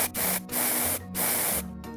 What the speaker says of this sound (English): Now, spray some deodorant on this arrangement.